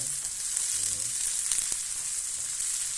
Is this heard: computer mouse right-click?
no